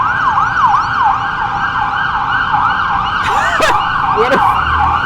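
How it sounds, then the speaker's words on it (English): A loud police car siren wails up and down steadily, close by, with a few sharper chirps and road noise beneath. "I thought it was a cop siren."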